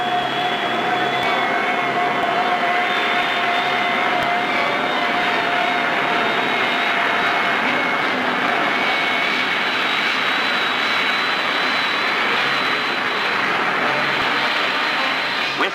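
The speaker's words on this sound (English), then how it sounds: "These are the original films of the first jet plane ever to fly in America." Archival film of the first American jet plane in flight in 1942, a loud, steady turbojet roar with a high whine that holds evenly throughout with no talk.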